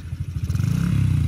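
A manual-transmission minibike with a hand clutch pulls away in first gear, its small engine putting out a close, rapid, rising putter that firms up into a steady run.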